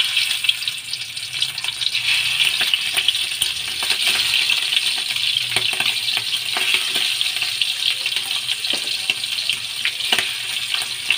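Shrimp fry in a hot pan with a steady, bright sizzle and crackle, broken by scattered sharp pops and taps throughout, close and continuous without speech.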